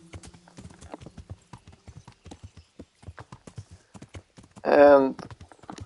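Horse hooves clip-clop in Kingdom Come: Deliverance, a steady stream of light hoof beats under continuous talk, followed by a brief loud whinny near the end.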